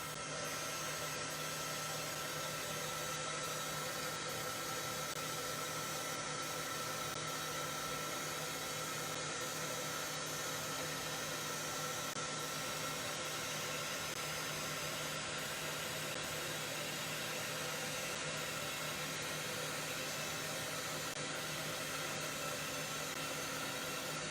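A heat tool drying texture paste on a craft project, a French fries box holding a mini album, blows with a steady, even whir for the whole stretch, fairly quiet with no talking over it.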